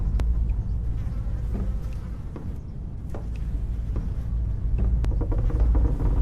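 Flies buzzing in the horror video game Ravenous, a persistent droning hum over low rumbling ambience, with a few sharp clicks scattered through it.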